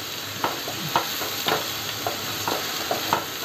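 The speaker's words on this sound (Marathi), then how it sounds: "आपण कांदा जरा थोडासा 2-3 मिनटं आपण तेलावर परतून घ्यायचं आहे." Chopped onion sautés in hot oil over a high flame for stuffed bell pepper, with a steady sizzle under a regular scraping stir that repeats roughly every half second, close and moderately loud with no talking.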